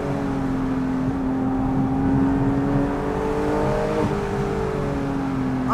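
Porsche GT3 RS with a 4.5L engine and custom exhaust revs and downshifts, heard from inside the car as a loud, steady engine drone whose pitch climbs and falls over a rumbling background.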